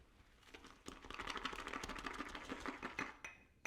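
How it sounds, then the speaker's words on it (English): Wet shaving soap being whipped into lather with a brush, a busy run of quick, dense wet swishing and clicking strokes, fairly close and steady, with no talking. "This is lathering up the soap."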